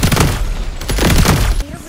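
Rapid bursts of gunfire at a shooting range in the FPS game FragPunk, loud, close, repeated volleys that stop near the end, with brief voice murmurs in between.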